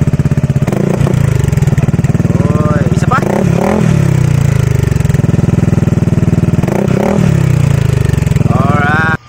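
A Yamaha NMAX V2 scooter fitted with an Akrapovic M2 muffler and silencer idles loudly up close, rising in several sharp revs and falling back, with speech over part of it.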